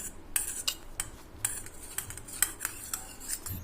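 A metal spoon mixes soybean chilli in a pot or bowl, giving a series of light, irregular clinks and scrapes against the dish, close by and fairly quiet.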